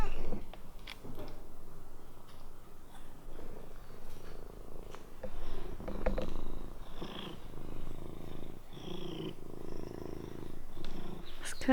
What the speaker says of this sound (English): I hear meowing sounds coming from the house.